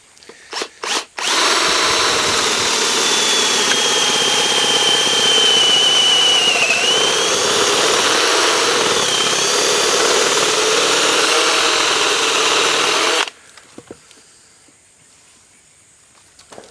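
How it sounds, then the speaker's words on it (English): A 3/8-inch DeWalt drill spins a forged spoon bit with a loud, steady high-pitched whir for about twelve seconds after a few short trigger bursts, then cuts off into near silence. "I chucked this drill bit up into a 3/8" DeWalt drill just for sake of demonstration on the power of these drill bits"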